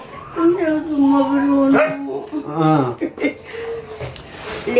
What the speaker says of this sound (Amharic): ውሻው ምን ሆኖ ነው የሚጮህ ይጮሃል ዝም ብሎ